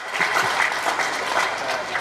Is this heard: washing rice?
no